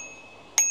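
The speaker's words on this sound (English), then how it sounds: "You've got your little bell." A single bright ring from a small bell on the handlebar of a Onesport OT18 e-bike, sharp and close, sounding once over a faint steady tone.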